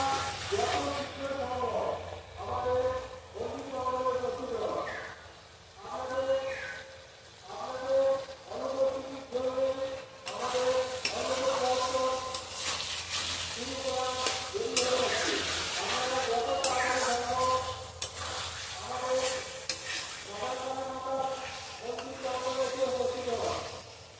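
Mutton curry with new potatoes stir-fried in a pan: a low sizzle and occasional stirring scrapes run underneath steady talking, growing hissier in the middle stretch.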